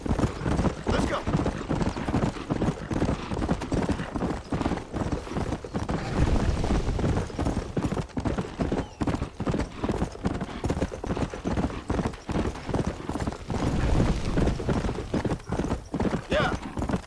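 Rapid rhythmic hoofbeats of a galloping horse in the Western game Red Dead Redemption, pounding steadily and close, with shouts and urging voices over the top.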